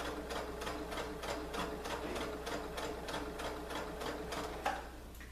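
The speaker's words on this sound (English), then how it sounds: "my sewing machine is giving me a problem today" A sewing machine runs steadily through stretchy lycra leggings fabric, its needle clattering in a fast, even rhythm close up, with a brief knock near the end.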